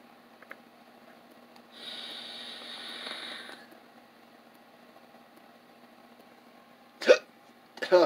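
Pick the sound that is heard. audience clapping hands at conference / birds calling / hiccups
hiccups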